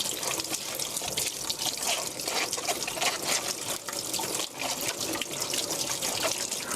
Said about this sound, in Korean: 흐르는 물에 깨끗이 씻은 다음 이렇게 넣으시고요.